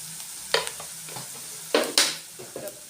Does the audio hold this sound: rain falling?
no